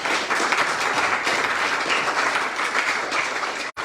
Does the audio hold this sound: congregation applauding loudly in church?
yes